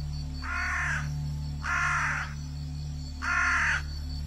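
Three loud, harsh caws from a jungle crow near a leopard's carcass, evenly spaced about a second and a half apart over a steady low background hum, with no voices.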